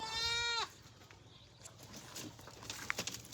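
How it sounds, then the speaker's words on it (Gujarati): A single goat bleats loudly and close for about half a second, followed by quiet outdoor ambience with faint scattered sounds. "બકરા"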